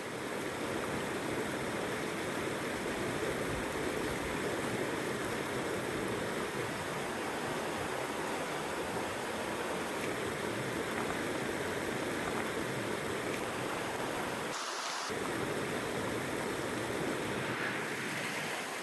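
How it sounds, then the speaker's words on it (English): River water rushes steadily at a river crossing on the Kowhai-Hapuku Circuit tramp in the South Island, a continuous close broadband roar with wind buffeting the microphone, briefly dropping out near the end. "All right, more river crossings."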